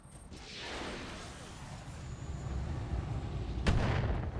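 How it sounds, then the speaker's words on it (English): Mortar artillery fire from an Arrow 4 carrier in a BattleTech video game: a faint rumbling build of distant impacts followed by one sharp crack near the end, with low talk in the background. "Who the fuck is dropping mortars on my head? Oh no, that's just an Arrow 4 carrier."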